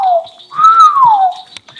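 A human voice imitates a whistle heard in a Ghanaian forest: two clear, loud whistled notes, the second rising and then sliding slowly downward.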